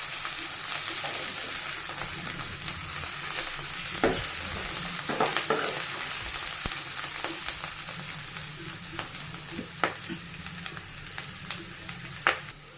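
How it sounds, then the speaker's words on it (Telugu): Bitter gourd (kakarakaya) slices fry in a pan with a steady loud sizzle throughout, broken by occasional sharp crackles and stirring clinks, no talking. "ఇలా కాకరకాయ ఫ్రై చేయడం చాలా బాగుంటుంది."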